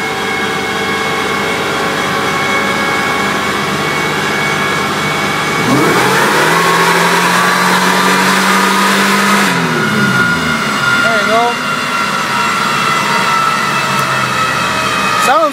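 A Pontiac Fiero engine revs hard on a dyno pull, the tone climbing loud and strained before dropping back to a rough idle, with speech and shop noise over a constant background roar.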